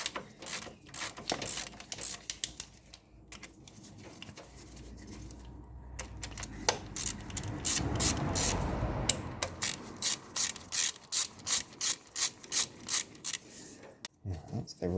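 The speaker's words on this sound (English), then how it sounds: "I like to try and undo the rocker shaft bit by bit so it comes up as one" Rocker shaft being undone bit by bit on a Ford Fiesta mk1 engine: close, quiet ratcheting clicks in bursts, then a fast regular run of ratchet strokes toward the end, with no talk.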